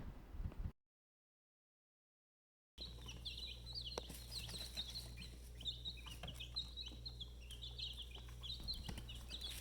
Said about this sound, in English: We began with a flock of laying hens